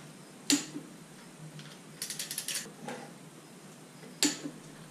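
Sharp clicks and a quick ratcheting run from a torque wrench tightening bolts on an OM617 engine adapter plate to 60 foot-pounds, close and fairly quiet with pauses between strokes.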